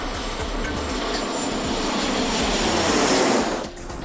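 Airplane cabin on a flight from Tokyo to Kyushu, a loud, steady broadband engine and air roar that holds throughout and dips slightly near the end, with no voices.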